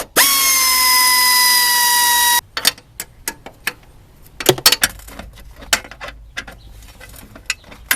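A power tool whirs steadily for about two seconds while removing a starter bolt on a 6th-generation Nissan Maxima, then stops, followed by scattered metallic clinks and rattles of handled parts.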